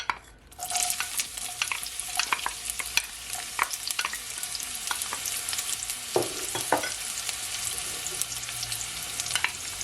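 Onion frying in olive oil in a pot on medium heat, a steady close sizzle with scattered pops and clatters of stirring, no talking over it.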